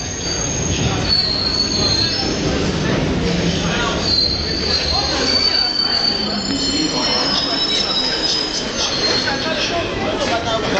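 A London Underground train rolls in with loud, high-pitched wheel squeals over a steady rumble, and voices are heard talking nearby.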